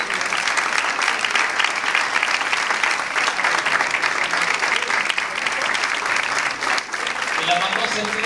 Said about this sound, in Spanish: un aplauso para Adriana.